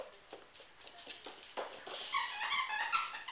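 A Weimaraner playing fetch squeaks a squeaky toy, producing a burst of repeated high, bright squeaks in the second half, with faint paw shuffles beforehand.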